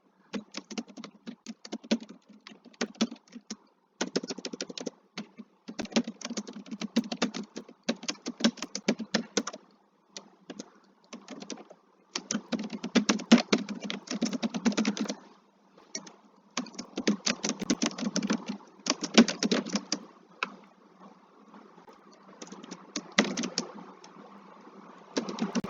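A computer keyboard is typed on in quick bursts of close, crisp key clicks, with short pauses between runs.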